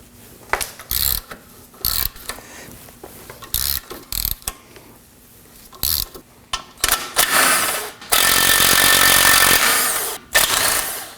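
Hand tools work on 17mm nuts and a bolt holding the front lower control arm of a 2018-2024 Toyota Camry: bursts of close, rapid ratchet clicking, short pauses between, then a longer sustained grinding run near the end.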